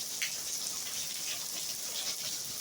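Rain falling steadily in Northern Nevada after a sudden storm, a constant hissing wash with scattered drop patter, moderately faint and unbroken, with no talking.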